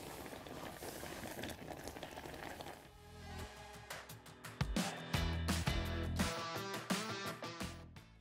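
A pot of rhubarb compote with strawberries simmers uncovered, giving soft irregular bubbling and popping that grows livelier toward the end, quiet and close with no voices.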